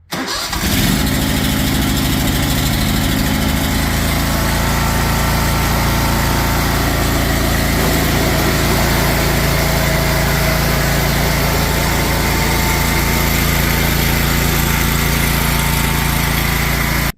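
A DuroMax 713cc engine fitted with a new exhaust muffler starts almost at once and runs loud and steady at high revs, a constant droning roar close by for the whole stretch, no voices.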